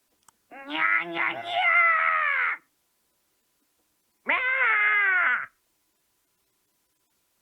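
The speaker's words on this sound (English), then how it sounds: "Suddenly, the snarling of several cats came from outside my window." Cats yowl and snarl outside a window in two loud, drawn-out bursts, the first about two seconds long and the second shorter after a pause, with no talk over them.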